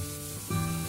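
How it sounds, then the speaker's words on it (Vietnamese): Dried squid and dried shrimp stir-fry in a hot pan, a short burst of sizzling that jumps louder halfway through as the food is stirred, close and steady with no talk. "Bây giờ mình sẽ xào khô mực với tôm khô cho nó chín thơm"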